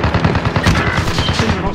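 Rapid, loud, continuous machine gun fire in a video game, with dense rattling bursts running throughout and a voice faintly under the shooting.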